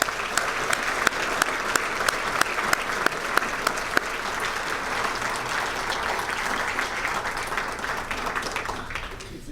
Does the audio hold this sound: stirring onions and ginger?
no